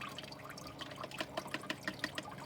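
Liquid nutrient solution pours into the water reservoir of a Miracle-Gro Twelve hydroponic tomato garden, a close, steady trickle with small splashy drips and bubbles throughout, no voices.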